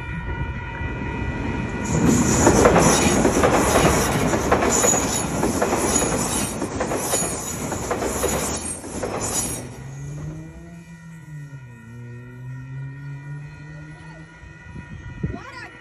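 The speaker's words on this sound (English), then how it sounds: "Guys, there's a train happening right now." A train rolls through a level crossing in West Auckland, New Zealand, loud and close with heavy rumble, clacking wheels and high flange squeal, then fades away after about ten seconds leaving a lingering low tone.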